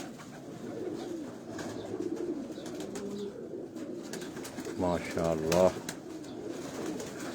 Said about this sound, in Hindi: ये ब्रीडर कबूतर है माशाल्लाह।